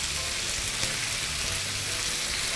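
Pork belly stir-fries with dried chilies, oyster sauce and light soy sauce in a hot pan, a steady close hiss and sizzle with faint stirring scrapes throughout.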